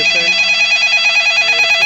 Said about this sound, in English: My phone is going to ring right now.